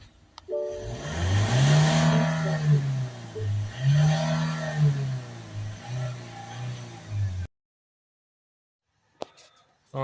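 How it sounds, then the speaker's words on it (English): A Ford Transit Custom van with a blocked DPF revs loudly in rising and falling bursts, then cuts out abruptly into silence, with a faint click near the end. "I've been giving it a few revs and it's cut out."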